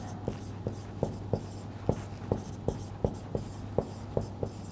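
A pen writes out a calculus solution on paper or a board, producing regular soft taps and scratches roughly every half second over a low steady hum.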